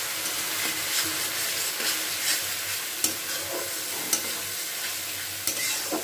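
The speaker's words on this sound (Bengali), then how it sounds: "দিয়ে খুব ভালো করে কিন্তু এটাকে ভাজা ভাজা করে নিতে হবে।" A paste of garlic, onion and green chili fries in a pan while it is stirred, producing a loud, steady sizzle with occasional scraping clinks of the spoon against the pan.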